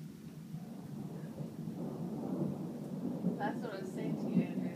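Low, rolling thunder from a lightning storm rumbles continuously at a moderate distance, with faint voices murmuring over it.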